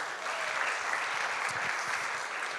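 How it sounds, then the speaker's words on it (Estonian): A congregation claps during a Sunday morning church service, a steady, fairly soft patter of many hands that carries on evenly through the whole stretch. "Nii et tehke üksteisele üks suur aplaus täna hommikul."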